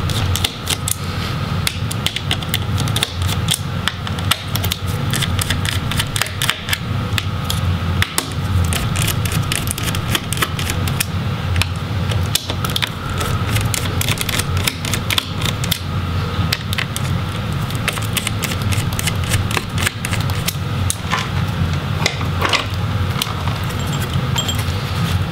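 Small screws being undone from the heatsink of a Lenovo Legion Y520 laptop, a steady run of faint metallic clicks, ticks and light scraping over constant background hum, with no talking.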